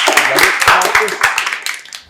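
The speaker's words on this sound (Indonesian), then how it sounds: "Oke, tepuk tangan semua." A classroom group claps together in a burst of quick, uneven hand claps that trail off, with voices mixed in underneath.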